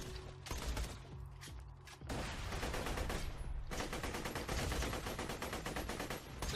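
Rapid automatic gunfire from the Borderlands 2 game, long rattling bursts separated by brief pauses, loud and close with no talk over it.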